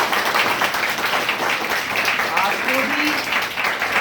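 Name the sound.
students clapping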